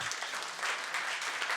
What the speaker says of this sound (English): Please make a big applause to her.